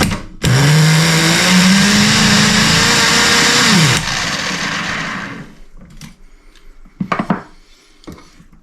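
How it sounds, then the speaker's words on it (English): An ACME Condor model engine screams loudly and close as the throttle is opened, pitch rising and holding for several seconds before winding down, followed by a few handling clatters. "I'm going to open the throttle a little bit."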